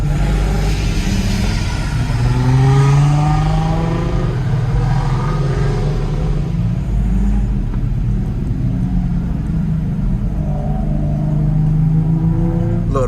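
At an Atlanta car meet, a loud car engine revs and roars continuously as it spins, the rumbling drone rising and falling with throttle for the whole stretch, with no talk over it.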